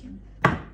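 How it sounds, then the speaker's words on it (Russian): A single sharp knife chop through gherkins on a cutting board, close and crisp, cutting them into small pieces. "Теперь переходим к корнишончикам. Их нарезаем вот такими вот маленькими."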